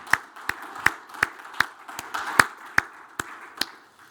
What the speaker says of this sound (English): Can we give Ines a big round of applause for this?